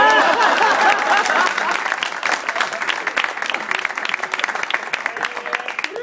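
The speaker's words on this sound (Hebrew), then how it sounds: "אתם צוחקים אותו דבר יותר חזק ונותנים כפיים" A crowd claps loudly, the applause gradually thinning but continuing throughout with scattered claps and some background voices.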